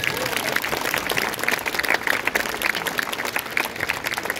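An audience applauds at a summer jazz festival held in historic castle walls in the town of Nesvizh, with moderately loud, steady clapping beneath speech.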